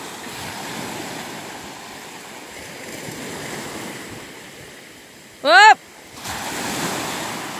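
Ocean waves break on the shore in a steady, close roar of surf with some wind buffeting the microphone, and a person lets out a short, loud shout near the end before the surf swells again.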